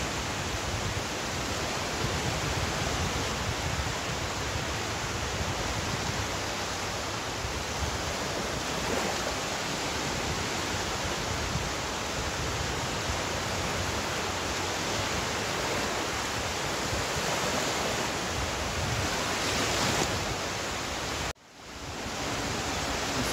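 Waves wash steadily onto the Lake Ontario shore at Durand Eastman Beach, a constant, fairly loud rushing surf with no breaks. A sudden brief dropout comes near the end.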